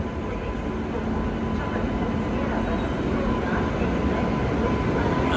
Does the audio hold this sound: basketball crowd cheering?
no